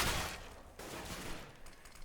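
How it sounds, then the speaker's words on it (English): Grenade blasts and gunfire in the shooter game Counter-Strike: Global Offensive on the Cache map, a dense, loud burst of noise that slowly tails off into continuous crackling shots over the whole stretch. "Oh, the nade's coming in!"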